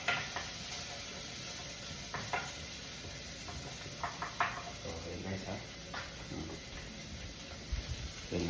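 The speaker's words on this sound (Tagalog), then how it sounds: "bawang sibuyas kaluya ginigisa natin yan" Garlic, onion and ginger sautéing in a small pan for spicy pork hock kare-kare, a soft steady sizzle with scattered knocks and scrapes of a utensil against the pan, while a person talks.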